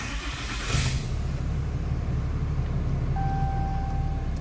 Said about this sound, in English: we're gonna start the truck up